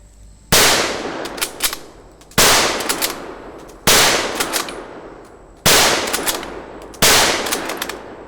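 A World War I era Springfield bolt-action rifle fired five times in quick succession, each loud sharp report followed by a ringing echo and the clatter of the bolt being cycled between shots.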